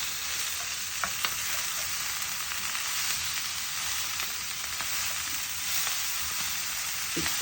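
Beans curry sizzles steadily in a hot pan while being stirred, a constant close frying hiss with occasional light scrapes and no talking.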